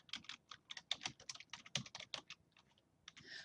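Quick, quiet keystrokes patter on a computer keyboard as a search is typed, a steady run of soft clicks at close range.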